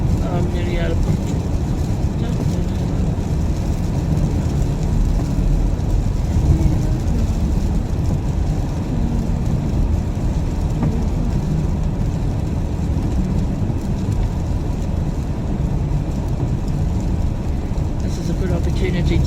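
A van cruising along Te Ahu a Turanga Highway gives a steady, unbroken low engine drone and road rumble that stays even and fairly loud throughout.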